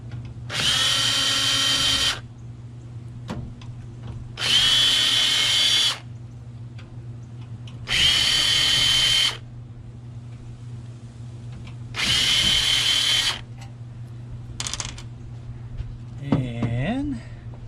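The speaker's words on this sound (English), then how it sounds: "first things first, we get the screws out of the power supply." A power drill unscrews screws from a computer power supply casing in four separate bursts of about two seconds each, whirring loudly with pauses between, over a steady low electrical hum, followed by a brief clatter at the end.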